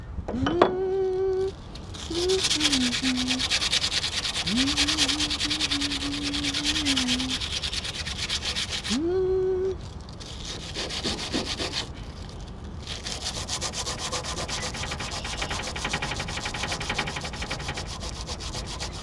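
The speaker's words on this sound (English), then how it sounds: "as you can see, we're all sanded down" A DIY block off plate for a Nissan VQ engine is sanded with a powered sander, steady abrasive rubbing and whirring that briefly pauses and changes pitch, with a tonal motor whine rising and falling.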